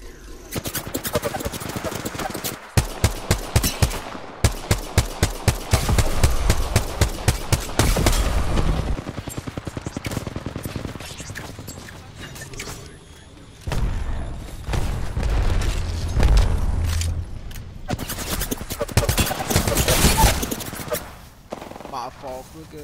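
Rapid bursts of gunfire in a shooter video game crack out in dense, repeated volleys, loud and close, with a voice talking over the shooting.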